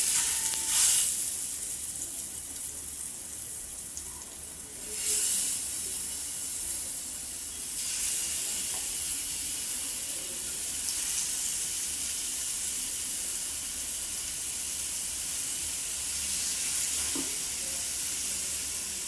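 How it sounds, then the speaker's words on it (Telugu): Marinated, spiced fish pieces frying in a hot pan, with a loud, steady sizzle and hiss throughout and brief louder surges as the pieces go in and get stirred. "ఇప్పుడు మనం మసాలా మిక్స్ చేసుకుని మ్యాగ్నేట్ చేసాను కదా ఫిష్ పీసెస్, ఇవి వేసుకుని ఫ్రై చేసుకుంటాను."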